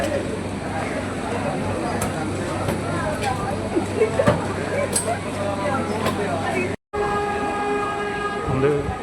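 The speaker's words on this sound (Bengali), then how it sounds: "ট্রেন ছেড়ে দিল বেলমুড়ি স্টেশন থেকে" A train pulls away from Belmuri station on the Howrah–Purulia route via Mashagram, its steady rolling rumble near and continuous, with a few short horn blasts rising above the running noise.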